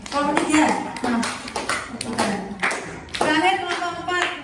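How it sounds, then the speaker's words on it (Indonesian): Clapping in a classroom for a student group, heard as scattered bursts of hand claps mixed with children's voices and a teacher's talk throughout. "Tepuk tangan kelompok 4."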